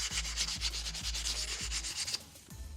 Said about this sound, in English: I think used 180p sandpaper and just did this